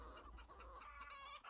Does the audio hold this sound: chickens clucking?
yes